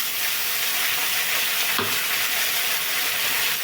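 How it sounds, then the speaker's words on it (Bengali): Prawns fry in hot oil in a pan, giving off a loud, steady sizzle with one brief stirring clatter partway through and no talking. "চিংড়ি মাছের তেলের সাথে ভেজে নিচ্ছি"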